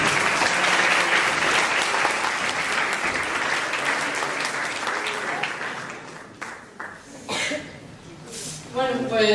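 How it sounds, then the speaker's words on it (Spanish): Audience applause at an audiovisual festival as guests are welcomed onstage, dense clapping at first that thins and fades out, leaving scattered claps and a voice starting to talk near the end. "Un aplauso para él, por favor."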